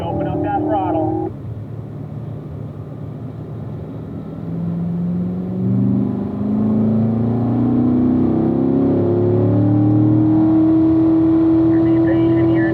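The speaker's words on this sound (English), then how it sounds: "And as we unwind, we open up that throttle." A Corvette on a racetrack accelerates out of a corner, its engine rising steadily from a low rumble into a climbing, sustained drone. The engine sound is loud and close, with a voice speaking briefly at the start.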